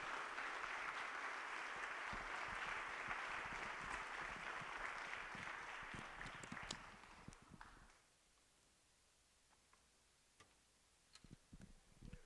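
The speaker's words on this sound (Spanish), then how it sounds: "Dale un fuerte aplauso al Señor." A church congregation claps loudly and steadily for about eight seconds, then the applause stops abruptly, leaving a quiet room with a few scattered claps and small knocks.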